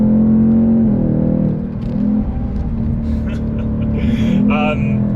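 Engine of a 2024 Ford Mustang GT being driven, a loud steady drone from the car with the engine note rising and falling as it moves, and someone talking over it.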